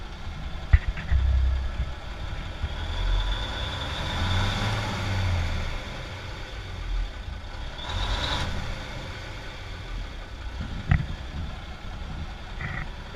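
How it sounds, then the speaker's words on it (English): A Cummins 250 diesel idles in an M932A1 5-ton military truck, a steady low rumble that runs unbroken from start to finish, with a couple of short sharp clicks and a brief hiss partway through. "It's a 250 Cummins in the truck."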